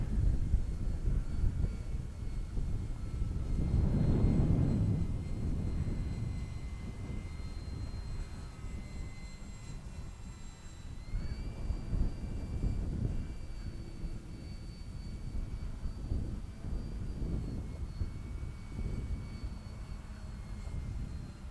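An RC model Gloster Gladiator flies on its maiden test flight, its engine a steady droning hum that swells as it passes nearer and then stays at a moderate distance, with no talking.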